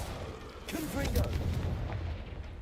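A Confringo fire spell explodes during a spider fight in a wizard video game: one deep, rumbling burst swells near the middle and then trails off beneath a steady bed of game noise.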